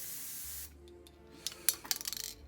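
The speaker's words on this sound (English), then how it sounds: "turn it upside down and spray for a couple of seconds to clear the nozzle out" An aerosol spray can, held upside down to clear its nozzle while coating Warhammer Quest floor tiles, lets out a steady hissing burst for about half a second, followed by quieter clicks and rattles.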